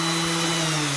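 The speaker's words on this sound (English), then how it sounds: "how can you tell a great orbital? Well, you can switch it on and it'll sit there by itself" A Festool orbital sander, switched on and left running freely on an old wooden table being restored, gives off a steady, close, even motor hum with a constant tone for the whole moment.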